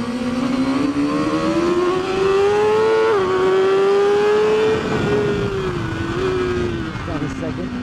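A BMW S1000RR superbike engine screams at high revs on the Mission Raceway track, loud and close, the pitch climbing steadily with a brief dip at a gear change before settling and falling off.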